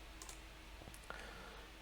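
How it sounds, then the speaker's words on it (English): A single computer keyboard key, the right arrow, is pressed, giving one faint, sharp click in a quiet room with a few softer ticks around it. "I press the right arrow in the keyboard"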